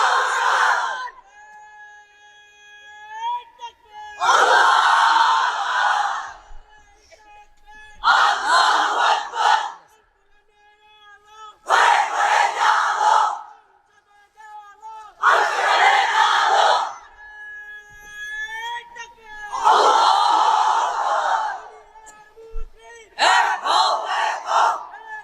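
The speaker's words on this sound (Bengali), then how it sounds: "এবার অবিবাহিতরা দাও লিল্লাহি তাকবীর।" A large crowd of unmarried men at an Islamic sermon gathering shouts the takbir chant in loud unison bursts, about six in all, each answering a single leading voice in the quieter gaps.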